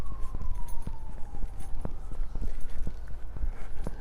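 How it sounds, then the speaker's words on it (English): A siren wails faintly in the distance, its tone slowly falling, beneath nearby footsteps and street noise on Staten Island. "I can hear sirens in the back or in the front"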